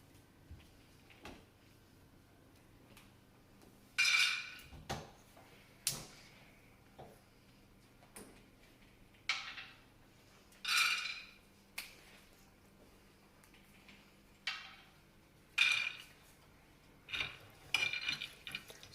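Peanuts being stirred in a pan for South Indian peanut chutney give off a series of irregular scraping and rattling bursts with quiet gaps between them, close and moderately loud.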